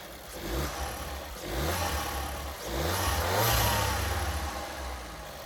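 A 2015 Audi A3 with a 1.4 TFSI engine revs up and settles in several swells, the engine note rising and falling close by with no voices.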